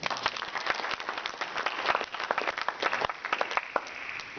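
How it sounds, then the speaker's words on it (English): An audience at a political convention event claps in agreement, many distinct sharp hand claps rising and falling irregularly, with some crowd murmur, fairly close. "Clap if you agree with us."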